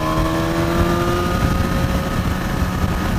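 A BMW S1000 XR motorcycle engine hums at a steady, high rev while cruising in sixth gear at 4,000 rpm, a constant smooth drone with no pauses or talking.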